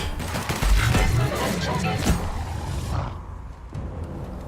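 Gunfire during a fight in The Outer Worlds, a loud burst of crackling shots and crashing impacts up front that thins out toward the end, with no clear talk.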